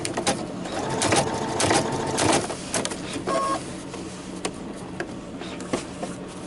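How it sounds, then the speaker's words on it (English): Sewing machine stitching a bottom zipper onto a fur pillow, a close mechanical whirr in short runs with pauses between, the motor humming and clicking as each stitch is taken. "my machine to 2 millimeters, and it will automatically move forward and take a stitch."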